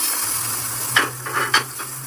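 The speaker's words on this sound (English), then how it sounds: "when I'm pan frying the fish, I do not have to worry about it" Oil hisses and sizzles steadily in a hot pan as a whole fish pan-fries, with a few light clinks of a utensil against the metal.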